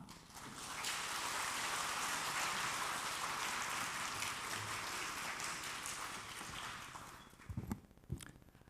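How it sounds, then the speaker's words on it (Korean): A congregation at a Korean church Sunday service applauds to welcome the preacher, a broad sustained patter of many hands that swells quickly, holds for several seconds, then fades into a few scattered knocks. "나오실 때 우리 큰 박수로 맞이하겠습니다"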